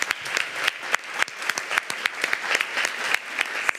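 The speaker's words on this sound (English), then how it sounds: "Let's give one round of applause for all our speakers in this marathon session" An audience claps steadily in a full round of applause, dense and close, without voices.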